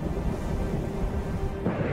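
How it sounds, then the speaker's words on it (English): Deep, rolling rumble of thunder from a summer heat thunderstorm in the mountains of Sardinia, a continuous low roar that swells slightly near the end, with no voices. "In the mountains of Sardinia, powerful heat thunderstorms develop"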